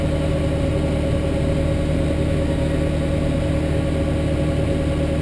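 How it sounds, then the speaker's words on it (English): A tractor engine runs at a steady drone at about 1500 RPM powering a Westfield wheat auger during harvest, constant and unchanging throughout, with no voices. "this tractor just kind of motors on it, running about 1500 RPMs."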